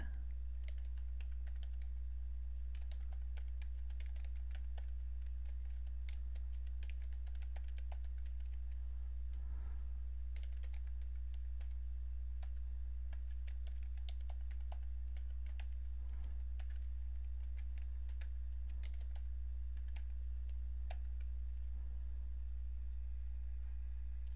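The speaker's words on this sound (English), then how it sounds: "Type your title." A title is typed on a computer keyboard, with a long run of quiet, rapid key taps that continue over a strong, steady low electrical hum.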